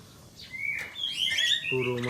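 Pelatuk sampit, a woodpecker kept as a master songbird for training other birds, gives bright whistled calls and chirps in quick succession, close and clear, with a steady harmonic note near the end.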